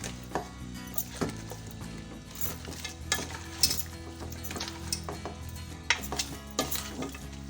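A spoon scrapes and knocks around a pot of beef stew with water added, in irregular strokes, with a soft sizzle and occasional clinks of metal underneath.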